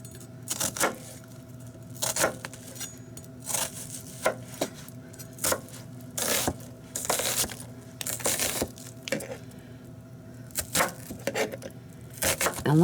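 A knife chopping a medium onion on a cutting board for potato salad, irregular close cuts and knocks spread throughout, some sharp and some softer, over a low steady hum.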